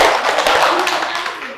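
A short burst of group clapping from many hands, loud and close, with some voices mixed in.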